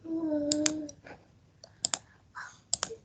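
Mouse button clicks on a computer while selecting options in a browser test tool, a few sharp close clicks in small bursts with a faint hum early on.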